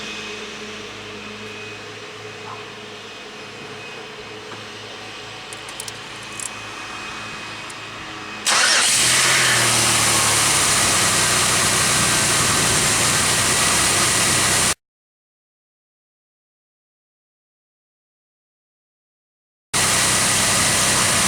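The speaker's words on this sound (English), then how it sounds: "Alright, so you can see how strong the Aztek seems to start up." A Pontiac Aztek engine starts after a quiet stretch, jumping straight into a loud, steady idle roar that runs for several seconds, breaks off abruptly into silence, then resumes.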